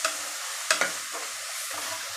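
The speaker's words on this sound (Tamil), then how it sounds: "இதை நல்லா சேர்த்து வதக்குவோம்." Onions for mushroom biryani sizzle steadily in a hot pan while a utensil scrapes and stirs a few times, close and fairly quiet.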